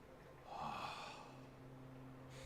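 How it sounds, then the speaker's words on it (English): A female character in Horizon Zero Dawn gasps once, a sharp, breathy intake that rises and fades, set over a low game soundscape. "What was that gasp?"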